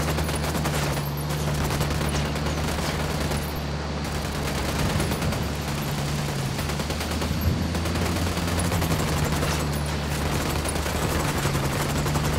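Sustained gunfire fills a Ghost Recon Wildlands firefight, a dense, continuous fusillade of loud shots layered over a low droning engine hum with no pause.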